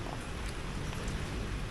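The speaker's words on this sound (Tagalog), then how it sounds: "Walang tigil ang ulan." Steady rain pours down during a typhoon, a dense, even hiss of drops on surfaces that holds at the same level throughout with no voices.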